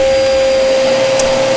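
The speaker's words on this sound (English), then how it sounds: "Going to pop my extraction on. Sorry if it makes a loud noise." A workshop dust extractor runs loud and steady, a constant whining roar with a strong fixed tone and broad hiss, alone with no talk.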